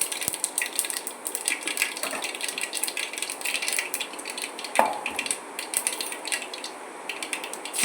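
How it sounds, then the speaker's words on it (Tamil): Mustard seeds and urad dal crackle in hot oil in a kadai, a dense, steady stream of fine pops and sizzling spits with a few sharper snaps, fairly close and with no talking. "கடாயை வச்சுட்டு கடாயில் கொஞ்சம் எண்ணெய் ஊற்றி கடுகு உளுந்தெல்லாம் போட்டாச்சுங்க"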